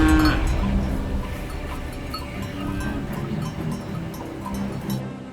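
Cattle in a Suri tribal village are heard at close range. Low bovine calls and clanking, bell-like tones rise over a dense, rumbling background, with no speech.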